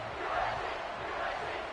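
Stadium crowd in an NCAA football video game, a steady broad roar of cheering that swells and holds throughout without a break, heard fairly faint behind the game audio.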